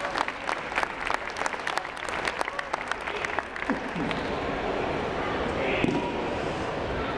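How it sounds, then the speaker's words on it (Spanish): Audience applause at a talk on dubbing, a dense wash of many hands clapping that carries steadily through the whole stretch, fairly close and loud, with a few voices faintly underneath. "Un fuerte aplauso, por favor."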